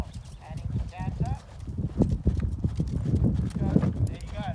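Hooves of a horse in training clip-clop in an irregular rhythm on firm ground, close and clear, while a person talks over the steps.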